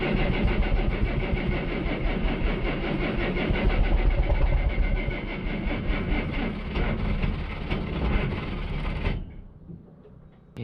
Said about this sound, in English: Let's see if we can get this thing started.